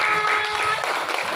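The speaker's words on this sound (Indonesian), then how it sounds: "Oke, tepuk tangan dulu untuk temannya." A class of schoolchildren clapping for a classmate, a dense, steady patter of many small hands close by, filling the room throughout.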